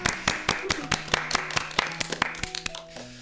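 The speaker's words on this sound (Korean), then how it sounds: "큰 박수로 한번 맞이해 볼까요?" Hands clap for student ambassadors arriving on a Korean university radio show, sharp, separate claps from a few people, with talk and tones mixed in underneath.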